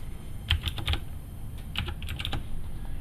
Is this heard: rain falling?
no